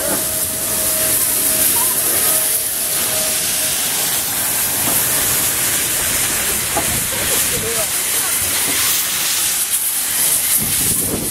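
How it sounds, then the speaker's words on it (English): Beyer-Garratt steam locomotive 6029 hisses loudly and continuously, a broad roar of escaping steam close by, with a person's voice partly audible beneath it. "lot of smoke now. Steam, big steam."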